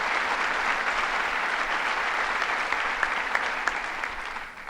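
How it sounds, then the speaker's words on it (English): A crowd claps steadily in sustained applause, dense and even, tapering slightly at the end. "Mayor Deister, let's give them all a round of applause."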